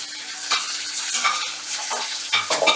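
Adamant creeper (pirandai) sautéing in a pan, with a steady sizzle broken by repeated scraping strokes of a spoon stirring, close and moderately loud.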